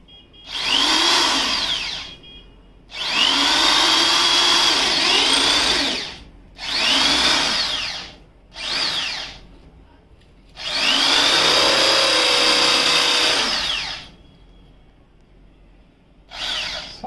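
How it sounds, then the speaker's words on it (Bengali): An Elecx electric drill boring a hole into a wall, several loud close whining bursts of a few seconds each with short pauses between, the longest near the end. "সো আমরা এখন এখানে ড্রিল করছি।"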